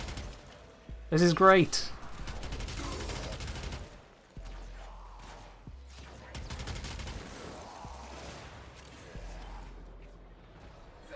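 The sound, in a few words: gunfire from the video game Warframe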